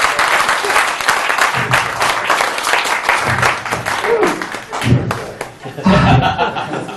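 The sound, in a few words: audience applause for stage hypnosis volunteers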